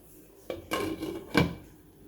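A pot of corn cooking in spices for a Jamaican crayfish soup being covered, with a few close metallic clanks and scrapes of the lid settling onto the pot, the last knock the loudest, and no talking.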